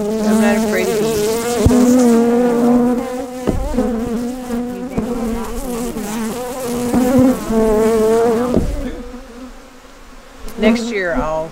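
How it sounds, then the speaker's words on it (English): Honeybees buzz steadily and loudly around homestead hives, a dense close-up hum with wavering tones that swells and dips, with a few sharper bumps and a brief quieter stretch near the end. "I'm not afraid of bees."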